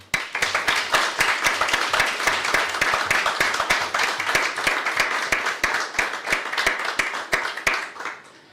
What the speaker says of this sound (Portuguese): quero dar uma salva de palmas para todas as mulheres